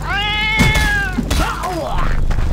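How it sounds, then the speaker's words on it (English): A death cat in the dungeon game Fate lets out two loud, drawn-out meows, the second rising and wavering, with thuds of combat between them. "Oh, death cat."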